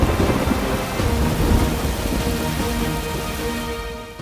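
Heavy rain pours down in Hong Kong during a thunderstorm, a dense, loud roar of rainfall with deep rumbling thunder underneath that slowly eases toward the end.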